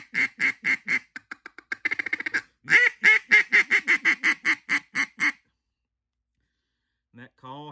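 A duck hunting call is blown close and loud in a long run of rhythmic quacks, with a faster stuttering stretch in the middle, then silence and a brief final burst.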